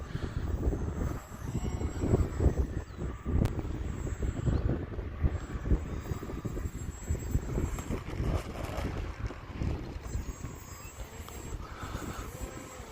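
A small Hobbyzone Aeroscout S 1.1 m RC airplane flies outdoors on a windy day, its electric motor droning continuously under heavy wind buffeting on the microphone.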